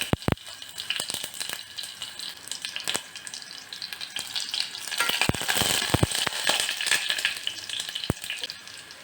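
Crushed garlic fries in oil with a loud, continuous sizzle, broken by occasional sharp pops and scraping stirs.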